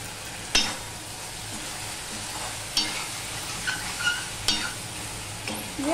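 Spiced okra and potato masala being sautéed in a pan, with a steady background sizzle broken by a few sharp scrapes and clinks of the spatula against the metal, close and fairly quiet, no voices.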